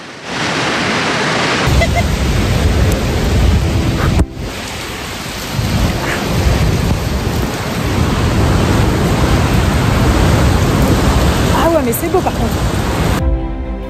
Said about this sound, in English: The immense spray and incredible noise caused by the rushing water is very impressive.